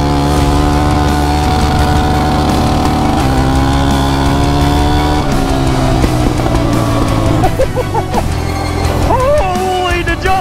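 An ATV engine screams steadily at its rev limiter to burn off oil, a loud, continuous buzzing drone with stuttering pitch near the end, with a voice faintly heard over it.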